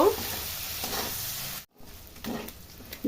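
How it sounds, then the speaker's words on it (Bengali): Prawns lightly frying in hot oil make a continuous near sizzle, broken by occasional stirring scrapes and a short silent break partway through; there is no talking. "চিংড়ি মাছগুলো হালকা ভেজে নিব।"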